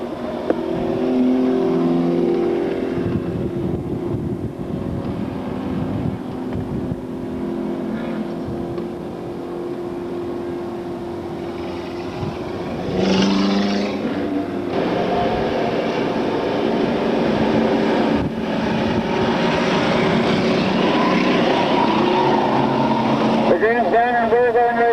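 Street stock race cars roar around Glade Speedway in a dense, continuous engine drone, the pack running close with rising and falling revs, under steady commentator speech.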